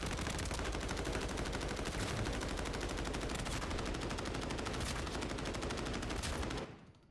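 Sustained automatic gunfire from a 5.8 mm rifle in the shooter game Arena Breakout Infinite, a dense, loud, continuous rattle of rapid shots lasting several seconds before cutting off abruptly.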